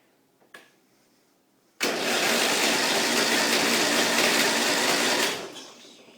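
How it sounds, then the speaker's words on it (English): A car engine cranks fast and loud for about three and a half seconds after a battery cable repair. It gives a steady, dense churn that starts abruptly and then tapers off, with a faint click beforehand. "It's cranking really fast."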